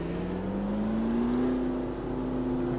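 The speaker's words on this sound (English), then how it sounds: "You've got engine sound all the way through the rev range" A Porsche GT race car engine in the sim racing game Automobilista 2 revs steadily upward through the range, a continuous loud droning tone rising gradually in pitch with no pauses.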